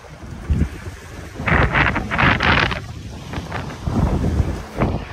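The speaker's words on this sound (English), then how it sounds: "Actually, the wind's picking up a little bit right now." Wind gusts across a sailboat at sea, with rushing buffets on the microphone and the wash of water under the hull, steady and close.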